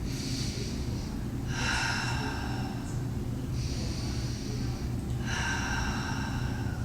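Two slow, audible breath cycles during a Pilates exercise, each a hissing inhale or exhale lasting about a second or more, over a steady low background hum.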